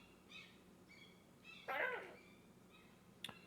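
A bird calls in the background, a few short chirping notes followed by a brighter, louder burst, fairly faint against a quiet outdoor hush.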